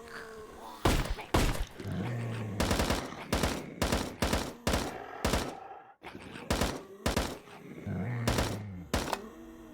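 AUG rifle fire in the VRChat game arrives in sharp, loud bursts of rapid shots, roughly a dozen clustered volleys separated by brief gaps, with a low hum and clanking behind them and a short break midway.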